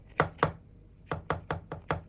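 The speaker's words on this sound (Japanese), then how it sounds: "型に沿って包丁でくり抜いていきましょう" A knife taps down against a cutting surface in quick, soft strokes, cutting out sponge cake along a mold, two at first, then a faster run of five.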